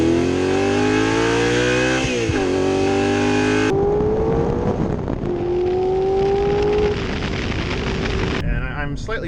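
An Audi R8 V8 engine revs hard and climbs in pitch, drops, then revs again, loud and close with a rough, throaty tone throughout.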